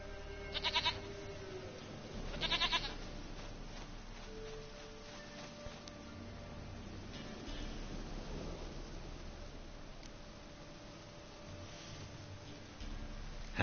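A goat bleats in The Witcher 3 with two short, bright bursts early on, then fainter calls over steady low game ambience and a soft rumbling background.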